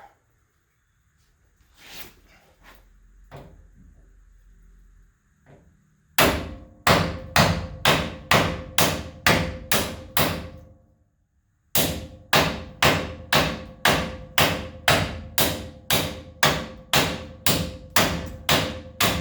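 A hammer strikes to drive out the rear wheel bearing of a 1991 Chevy truck, with scattered light taps early on, then two long runs of loud, evenly spaced metallic blows about twice a second, separated by a brief pause.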